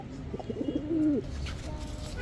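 A pair of helmet pigeons, one giving a single soft, rolling coo up close against a faint background hum.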